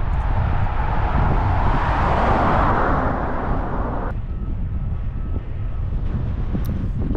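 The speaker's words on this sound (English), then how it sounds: "But we do have a pretty darn strong headwind." Strong headwind roaring over the microphone of a bicycle riding a country loop past daffodils and little churches, a loud broadband rush that swells near the start and eases somewhat midway, steady and unbroken with no talk.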